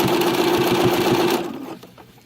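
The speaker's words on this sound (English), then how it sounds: "So I'm stitching really close to that edge" Sewing machine stitching close to the inner edge of a pants pocket, a fast steady mechanical whirr for over a second before slowing and stopping.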